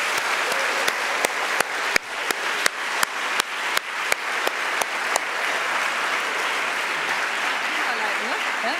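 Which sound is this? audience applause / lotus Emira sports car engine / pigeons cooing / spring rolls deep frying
audience applause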